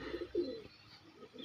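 Pigeons coo softly in short, low, throaty bursts, a few close-by calls with brief gaps between them, quiet and without any voices.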